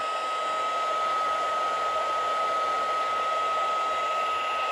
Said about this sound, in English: just hold it on there until it melts. And then you just move your heat tool.